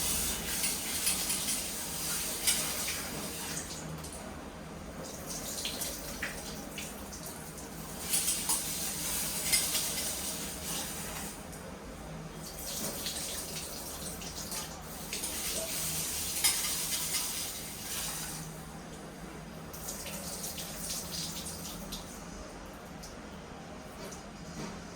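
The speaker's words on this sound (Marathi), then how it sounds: "तर आता हे 2 ते 3 पाण्याने स्वच्छ धुवून घेते." Green mung beans being rinsed and swished in water in a kitchen, a steady splashing and stirring wash that runs continuously throughout, with brief swells of sloshing.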